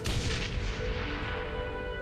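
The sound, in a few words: gas explosion, video game Shadowrun Hong Kong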